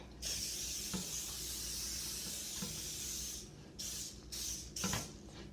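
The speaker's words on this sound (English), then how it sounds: "I'm using my jelly roll pan, and I'm going to spray it." Continuous cooking spray hisses steadily for several seconds onto a metal jelly roll baking pan, then comes in a few shorter bursts, close up with light clatter underneath.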